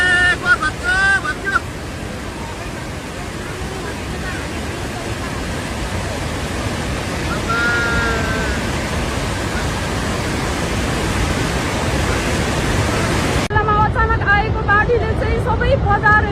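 Rushing floodwater in Nepal roars as a dense, steady wash of noise close to the microphone, with people talking over it.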